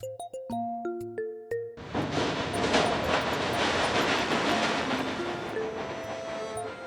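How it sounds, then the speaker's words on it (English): A platform chime plays a descending series of tones, then a train arrives at the platform with a steady rolling rumble and rattling of cars that carries on to the end. "As the morning train arrives"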